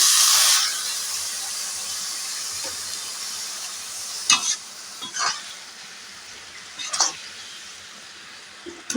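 Boiled papaya chutney simmers in a pan, giving a faint steady hiss with a few soft scrapes and clinks of stirring, and a louder sizzle at the very start.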